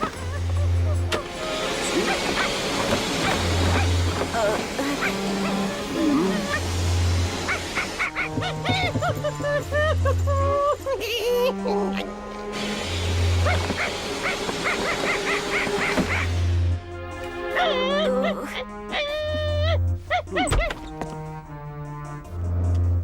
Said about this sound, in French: C'est bizarre, on aurait dit un chien.